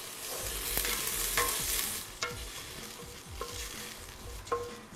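Dal and rice stir-frying together in a pan, a steady sizzle broken by repeated scraping strokes of a spoon against the metal, close and fairly quiet with no talking.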